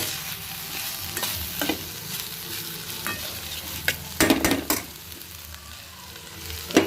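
Broad beans poriyal with onion and garam masala fries and gets stirred in a pan: a steady sizzle broken by scraping spoon strokes and clattering bursts, close and fairly loud, with no talking.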